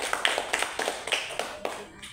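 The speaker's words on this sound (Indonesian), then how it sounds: "Kita berikan dulu aplaus untuk Pak Guru kita" Applause for a teacher at a school gathering at SDN 11 Palangga, with a small group clapping in a fairly steady, close rhythm for about two seconds.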